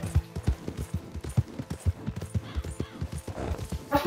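Horse hooves clip-clop in a steady trotting rhythm on a street in the town of Valentine in Red Dead Redemption 2, close and clear, with a brief neigh or sharp sound at the end.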